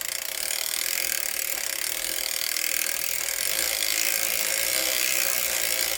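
A circular sock knitting machine knits rows with a continuous, close mechanical ratcheting and clicking that runs steadily throughout, with no voices.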